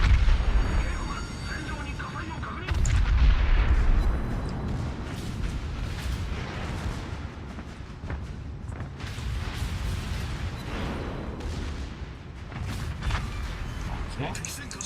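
Yamato battleship's secondary guns firing in World of Warships, a run of booming cannon shots and bursts over a dense battle roar, with a player talking over it.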